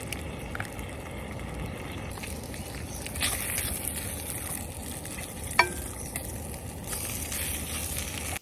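Bacon frying in a pan at an outdoor campsite, a steady background sizzle with scattered soft clatters and one sharp knock partway through, no voices.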